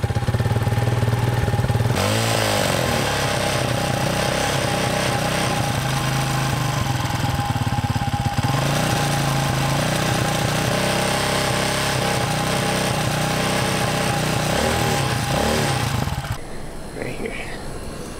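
A motorcycle engine warming up and idling, a loud, steady close rumble that runs unbroken for about sixteen seconds before dropping away.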